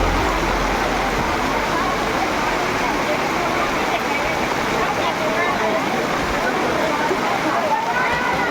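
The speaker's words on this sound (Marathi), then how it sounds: "किती पाऊस आला बघा." Steady heavy monsoon rain pours outdoors around a cooking mandap set up for pilgrims, a loud unbroken hiss filling the scene while people talk over it.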